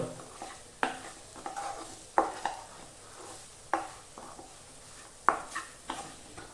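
Spice powders for an egg and green pea masala stirred and frying in oil in a pan, a soft continuous sizzle broken by sharp, regularly spaced scrapes and clacks of the spoon against the pan, with no talk.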